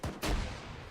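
A single grenade explosion in the video game Squad, a short sharp click followed by a heavy, booming blast with a low rumbling tail, close and loud.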